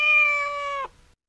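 A single long, clear cat meow sounds close by in a quiet room inside a house at Christmas, holding steady before it breaks off sharply.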